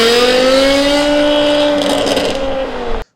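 A BMW M6 V10 engine holds a loud, steady high-pitched wail with rich harmonics, rising slightly in pitch before cutting off abruptly.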